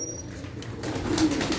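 Paired pigeons kept in a rooftop loft coo in low, throaty rolls, close and steady, swelling slightly toward the end.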